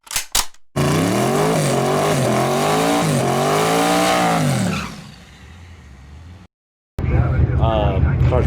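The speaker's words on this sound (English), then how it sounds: "Car's breaking up a little bit" Race car engine at a drag strip test night, misfiring and breaking up as it revs hard with a loud rising and falling whine, then dropping to a rough idle before cutting out briefly and roaring back up.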